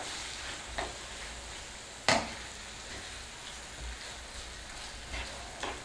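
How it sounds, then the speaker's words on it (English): Boneless chicken coated in curry paste gets stirred in a hot pan, a faint steady sizzle broken by a few soft scraping strokes, one sharper clack near the middle, no talking. "Give it a good stir"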